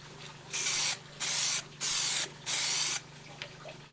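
A spray can lays down a light first coat of primer in four even bursts, each about half a second long, with short pauses between them. The hiss is close and crisp.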